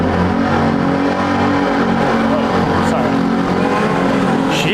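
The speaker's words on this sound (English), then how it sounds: "Just loud ass motorcycles here. And cars." Loud motorcycles and cars pass on a city street at night in Kawaguchi, a constant close engine roar with revving. A man gives a brief exclamation over the traffic.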